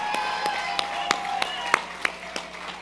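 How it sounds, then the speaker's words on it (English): A handful of people clap for star performers at a corporate annual awards ceremony, with sparse, separate claps spaced unevenly over a quiet room hum. "Come on, put your hands together for all the star performers."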